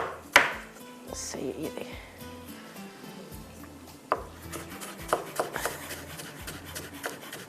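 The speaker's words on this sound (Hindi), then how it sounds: "थोड़ी सी अदरक भी चॉप करके डाल देते हैं" Ginger being chopped finely with a knife on a board, a few sharp close taps scattered among quieter scraping, while someone talks over it in a home kitchen.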